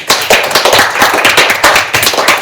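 Loud, close rhythmic clapping from a small group, an even train of sharp claps with no voices, honouring a final fantasy-themed single-colour house build.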